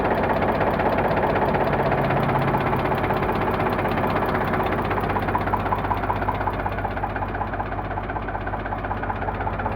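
An Eicher 485 tractor engine idles close by, with a steady, even knocking throb that holds for about ten seconds and no talking.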